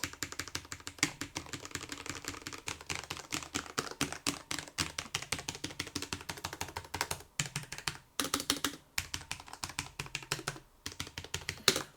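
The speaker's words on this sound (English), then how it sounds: "I'm gonna do a quick test keyboard so that you can check the noise." Steady, rapid typing on a Corsair low-profile mechanical keyboard, dense clacking keystrokes with brief pauses, close up and fairly soft, with no voices.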